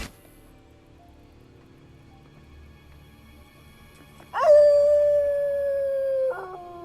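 A single long, loud howl from canines in the video game Assassin's Creed Brotherhood, rising sharply and then holding a steady falling pitch for about two seconds over a quiet low ambient background.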